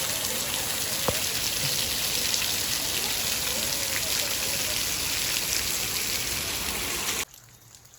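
Heavy rain pours down in a town with water running through the market streets, a dense, loud, steady hiss of drops on surfaces that cuts off abruptly near the end, no voices.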